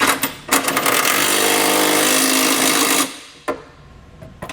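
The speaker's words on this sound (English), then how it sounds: "We can now go back and tighten down all of our hardware using a 19mm socket." A power tool whirs loudly for about two and a half seconds, driving a 19mm socket to tighten the bolts of a trailer hitch receiver, with a few sharp clanks before and after.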